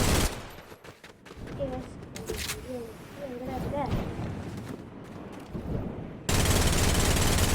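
Shotgun gunfire in the video game Fortnite comes as a fast string of loud shots mixed with game sounds, with a voice speaking over part of it.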